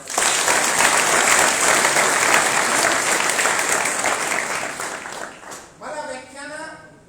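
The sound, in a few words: audience applause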